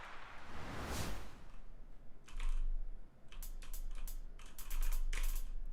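Computer keyboard keys are struck in quick irregular bursts, close and crisp, several clusters of rapid typing separated by short pauses, with a soft whoosh near the start.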